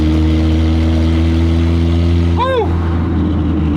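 A replica Bugatti Veyron kit car engine runs with a loud, steady low droning rumble, and a brief whistling chirp rises and falls partway through.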